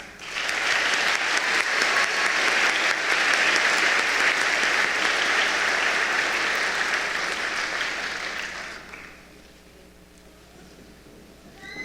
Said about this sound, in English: Please help me recognize these recipients with a warm applause